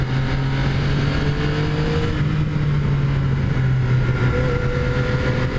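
A 2017 Yamaha FZ-09 motorcycle engine drones steadily while being ridden in second gear, a loud continuous hum with slight pitch rises and falls and wind rush, and no talking.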